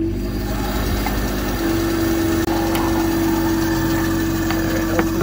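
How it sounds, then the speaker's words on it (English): A bandsaw runs steadily while cutting a new wooden radius block to replace a rotted one on a Weekend Warrior trailer roof, giving a continuous close whine with a strong sustained tone and one brief click partway through. "Got the bandsaw set up."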